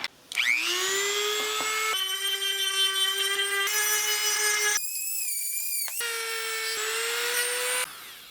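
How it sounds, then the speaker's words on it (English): A Dremel rotary tool sands the inside of a wooden knife, a loud high steady whine whose pitch shifts between passes, with brief drops between them and a sharp pitch jump midway. "Now I'm just gonna sand the insides to make it nice and"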